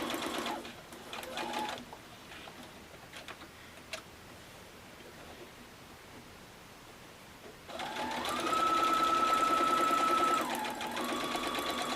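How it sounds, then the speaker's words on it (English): A sewing machine stitches rows of fabric hexagons for a mug mat, its rapid mechanical whir and ticking running in steady bursts, pausing briefly, then returning louder and sustained near the end. "You just want to let the sewing machine kind of guide it in."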